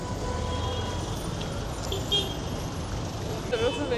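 Street traffic at a crossing with pedestrian signals in Cusco, a rumble of passing cars with brief horn toots near the end and a voice talking over it.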